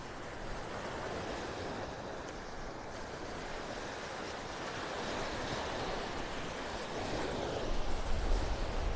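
Rough ocean surf at a beach in North Naples, Florida, a dense, continuous roar of breaking waves mixed with wind buffeting the microphone, growing slightly heavier toward the end.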